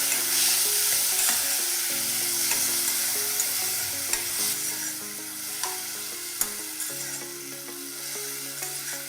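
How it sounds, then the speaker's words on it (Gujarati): Finely chopped tomatoes frying in a pan for sev usal, with a steady close sizzle and occasional stirring clicks and scrapes of a spoon against the pan, no talking. "ટામેટાને પણ આપણે 1 થી 2 મિનિટ માટે કૂક કરી લઈશું."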